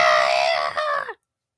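A person loudly imitates Godzilla's classic roaring scream with the voice, a single sustained harsh cry lasting about a second that cuts off abruptly into silence.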